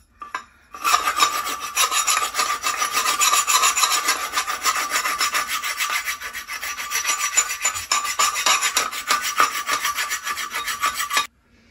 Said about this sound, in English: I've got a file there